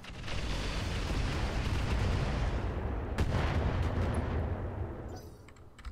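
Heavy weapons fire in the BattleTech mod Roguetech, a dense continuous roar of overlapping cannon and missile blasts that stays loud for several seconds before tapering near the end.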